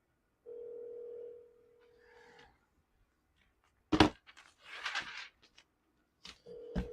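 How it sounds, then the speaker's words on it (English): A telephone ringback tone plays while a call waits for an answer: one steady, moderate purr lasts about two seconds, then a few faint knocks and handling noises follow before the tone starts again. "I don't know if you guys can hear the ringing or not."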